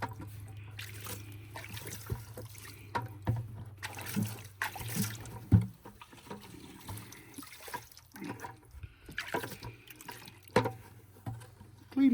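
Water sprinkling and trickling into a bucket during a mat-playing session, a soft intermittent patter and dribble with a low steady hum underneath, fairly quiet throughout.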